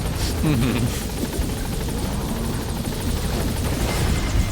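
Steady, close chopping roar of a helicopter's rotors in the Metal Gear Solid V video game, holding throughout while someone talks over it.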